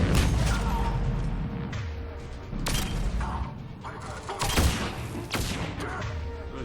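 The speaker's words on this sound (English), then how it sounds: "Of course there's more grenades. The grenades never stop." Grenade explosions and gunfire in the video game Mass Effect 3, several sharp blasts and bangs spaced a second or two apart over a rumbling combat background, with a voice talking at times.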